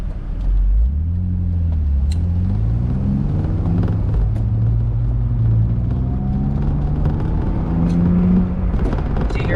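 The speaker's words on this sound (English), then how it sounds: "Do you hear that exhaust note?" A BMW Z3 2.3's low, throaty exhaust rumbles steadily from inside the cabin, rising and falling in pitch through gear changes as it accelerates.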